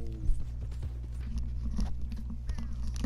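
Horse hooves clip-clop at a steady trot in a video game, with a low mechanical hum underneath and faint voices talking over it.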